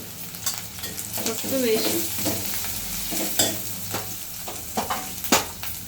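Onions fry in a pan with turmeric, ginger and garlic, sizzling quietly under repeated clinks and scrapes of a spoon stirring, while a voice briefly speaks over the cooking.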